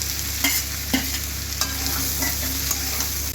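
Onions frying in a pan for a dry fish curry are stirred with several distinct scraping strokes over a steady close sizzle, with no voices.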